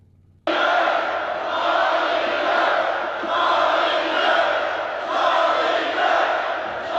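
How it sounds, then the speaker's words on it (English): Large crowd chanting a name in unison, a dense roar of many voices rising and falling in rhythmic waves after a quiet start, loud and close with no single speaker. "I also got the crowd here from a video chanting his name"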